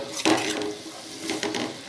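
Water is poured into a cooking pot of cauliflower and tomato curry on the stove, a short splashing gush near the start, followed by a quieter second pour.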